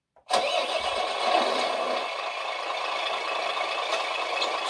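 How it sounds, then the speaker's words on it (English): The sound system of an entry-level GT Power RC container truck plays an engine start: a brief crank, then a steady, loud mid-pitched diesel idle with a slight rattle that runs on alone. "Start the engine."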